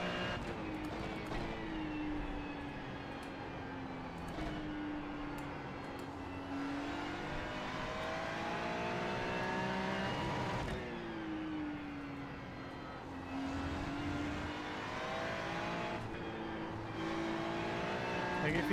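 Ferrari GT3 race car engine in iRacing, a continuous high-pitched whine shifting up and down through gear changes and corners over a long stretch, heard somewhat faintly at a steady level.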